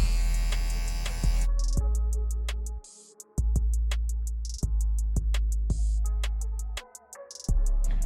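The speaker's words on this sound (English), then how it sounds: "I have my clipper with the lever all the way open." Electric hair clippers fitted with a 1.5 guard and the lever open buzz loudly and close up while cutting a taper haircut, with a steady hum broken by brief dips and clicks as strokes change.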